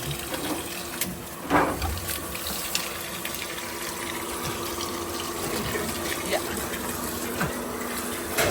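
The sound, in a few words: water flowing from a newly installed Jetmatic water pump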